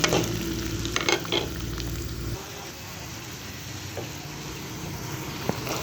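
Chopped onion sizzles steadily in hot oil in a pan, a close, continuous hiss with a few stirring scrapes; a low hum underneath stops partway through.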